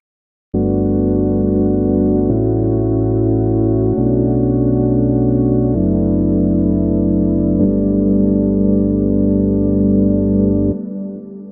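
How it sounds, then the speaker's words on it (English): A sustained Juno synth pad with the mod wheel up plays a slow sequence of held chords, thick and warm with a wavering chorus delay shimmer, then fades out at the end. "with the mod wheel up, you hear the chorus delay kind of coming in"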